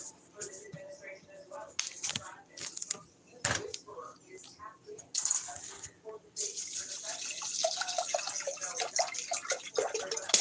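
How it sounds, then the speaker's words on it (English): Fresh water poured from a tap into a cooking pot for a lunch meat dish, an intermittent splashing stream that grows steadier and fuller toward the end, with soft clatter and a voice speaking briefly in between. "Now let's put some fresh water in here."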